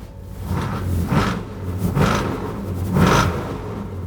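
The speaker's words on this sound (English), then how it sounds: "It's just a very happy, happy little engine." A 1970 Chevelle SS with a 454 big-block V8 idles with a deep, rumbling burble, swelling and fading in slow pulses, close and fairly loud.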